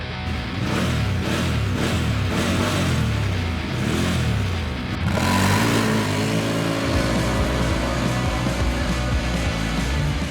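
A 1000cc ATV engine revs and accelerates on a test ride, loud and close, its pitch climbing through gears with a sharp surge midway before settling into a steady, rising drone.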